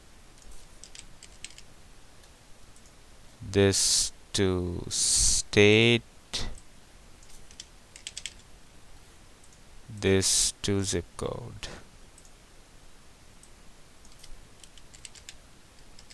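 Quick bursts of clicking and tapping on a computer keyboard come in two short clusters, close and clear, with a person talking between them.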